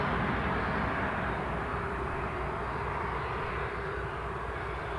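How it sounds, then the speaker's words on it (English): A Ryanair airliner departing Newcastle International Airport, its jet engines giving a continuous loud broadband roar that holds steady throughout, with no talk over it. "Ryanair flight is still with us."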